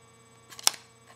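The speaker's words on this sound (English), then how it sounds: "One thing I have a feeling I'm not going to love is the sound that it's going to make when I take it out" Phone pulled out of an Exovault Exo5 magnetic case, a short, faint scraping release with one sharp click at its peak over a low background hum.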